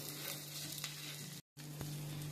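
Whole spices sizzle steadily in hot oil for tempering, a continuous close frying hiss with a brief gap partway through, while potol paneer dalna is being cooked.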